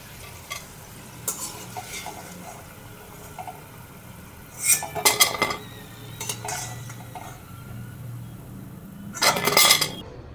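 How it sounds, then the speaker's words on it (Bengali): Freshly fried cauliflower fritters are lifted onto a plate, with scattered clinks of utensils against dishware, a couple of louder clattering bursts and a soft sizzle of hot oil beneath. "এবার আমি একটা প্লেটে তুলে নিচ্ছি।"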